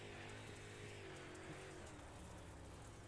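Race cars run a slick dirt track at Lucas Oil during the Outlaw Racing League Diamond Nationals, engines held below full throttle in a smooth, continuous drone with faint passing swells.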